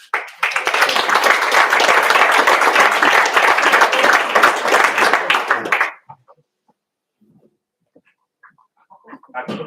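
Loud, dense audience applause at a Val d'Aran territorial development talk, fills about six seconds and then stops abruptly, leaving near silence with a few faint shuffles and small noises.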